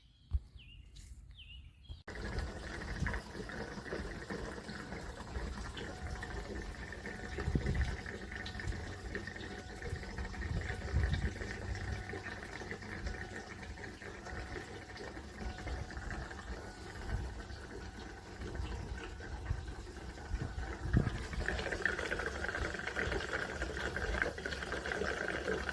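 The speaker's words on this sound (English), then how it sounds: "I installed now the new fuel tank, the fuel pumps, and let's try to start it" Abandoned 1988 Ford F350 bricknose engine being cranked after a new fuel tank and pumps go in, a steady rough mechanical drone with low rumble that holds for about twenty-five seconds after a quiet start, with no talking.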